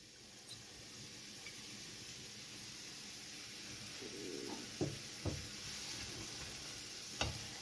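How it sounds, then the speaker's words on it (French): Thinly sliced leeks frying in olive oil in a pan, a soft steady sizzle with a few clicks and scrapes of stirring, close and quiet with no talking. "mettre une poêle avec de l'huile d'olive à chauffer. On va y mettre nos poireaux bien émincés."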